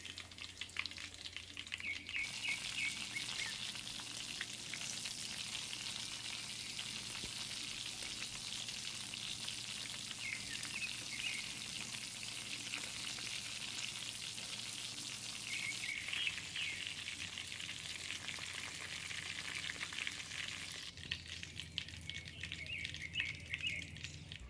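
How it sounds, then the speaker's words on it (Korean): Pork and dried shiitake mushrooms deep-frying in hot oil for sweet and sour pork, giving a steady, dense crackling sizzle that fills the whole stretch, loud and close with no talking. "돼지고기도 두 번, 그리고 표고버섯도 두 번 이렇게 튀겨보도록 하죠."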